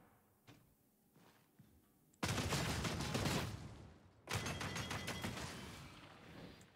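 Bolt gun fire in Warhammer 40K: Darktide, two sustained bursts of rapid, heavy shots, each lasting about two seconds, after a few faint thuds.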